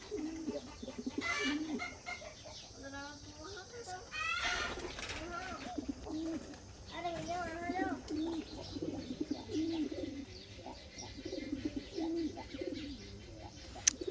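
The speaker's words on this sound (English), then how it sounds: "So here are the pigeons." Pigeons coo repeatedly on a farm, their soft calls overlapping with clucking chickens and other birdsong at close to middle distance, while a person talks intermittently over the steady outdoor ambience.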